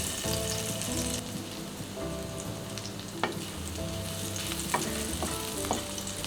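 Crushed garlic fries in oil in a wok, giving a steady close sizzle with occasional sharp crackles and stirring scrapes, with no talk.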